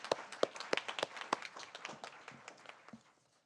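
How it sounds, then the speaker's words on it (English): Round of applause for student athletes at a school board of education meeting, a burst of claps in a room that thins to scattered, fading taps after about three seconds. "One more round of applause for all of our amazing student athletes."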